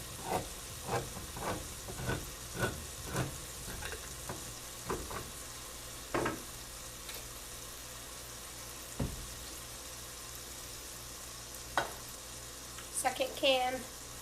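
Canned tomatoes go into a crock pot as a quiet series of soft, wet plops and scrapes in an uneven rhythm, with a few faint clinks near the end.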